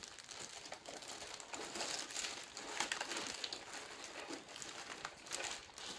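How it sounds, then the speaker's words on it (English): A child handles a soft plastic fishing lure bag, producing close, irregular crinkling and crumpling that runs throughout at a fairly quiet level, with no voices. "my child secretly sneaks over to my soft plastic bag"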